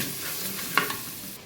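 Sliced tomatoes and cooked beef masala sizzle in a pan while being stirred: a close, continuous frying hiss with one brief scrape of the utensil midway.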